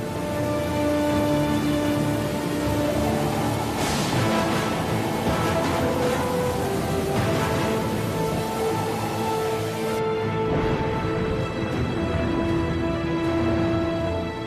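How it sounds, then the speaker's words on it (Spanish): A storm at sea, with steady heavy rain hissing across the whole stretch and low rumbles that suggest thunder rolling beneath it, loud and continuous with no voices. "de repente se desató una tormenta."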